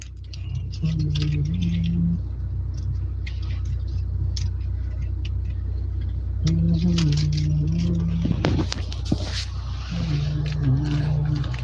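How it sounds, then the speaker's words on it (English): Keys jangle briefly as they are taken out, a short burst of metallic clinking over a steady low rumble, with a voice murmuring at times. "I'm just going to take the keys real quick."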